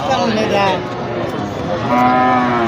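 A large cow moos loudly and close at a cattle market in Gazipur, a long low drawn-out call that swells again near the end, with people talking around it.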